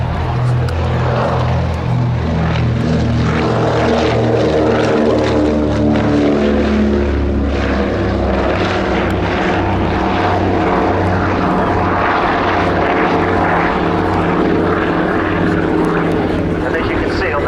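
A Catalina flying boat takes off at an airshow with a loud, continuous droning roar from its propeller engines. The throbbing engine tones rise in pitch, the sound stays close, and it fills the whole stretch.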